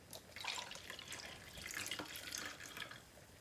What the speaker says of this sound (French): Il faut rincer.